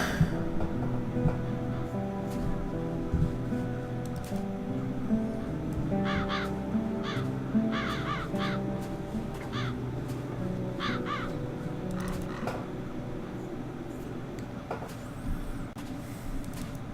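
Crows caw in The Dark Eye: Chains of Satinav, several harsh calls in short clusters partway through, heard over a steady low ambient game backdrop.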